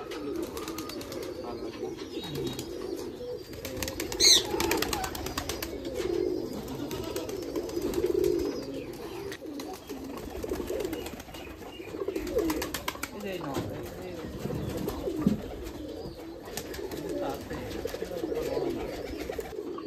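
Many deshi pigeons coo continuously in soft, overlapping murmurs close by, with people talking faintly underneath.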